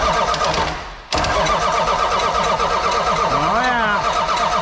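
A Cummins diesel engine in a 1979 Ford truck cranks, stutters to a brief dip, then fires and settles into a loud, rough, clattering idle with a rising rev near the end.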